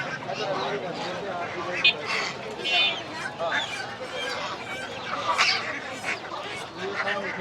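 Geese honking amid the bustle of a rural poultry market in Bangladesh, repeated nasal calls scattered over constant crowd chatter and nearby voices.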